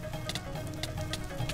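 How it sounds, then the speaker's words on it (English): Rain in Minecraft falls as a soft, constant patter with faint scattered drops, a brief continuous bed of sound without any voices. "Oh, is it raining?"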